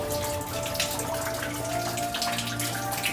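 Water flowing into a garden, a steady close rushing and splashing that runs continuously without pause.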